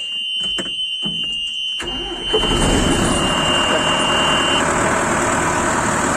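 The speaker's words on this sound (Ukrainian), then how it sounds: "Працює це як іноморочка заводиться коротко." A John Deere 1052 combine harvester engine cranks and starts after a warning beep tone and a few clicks, then settles into a loud, steady running roar close by.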